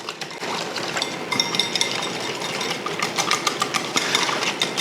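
Miso paste being whisked into a glaze for salmon, a steady close scraping and clinking rhythm of a whisk against a bowl running throughout with brief sharper ticks.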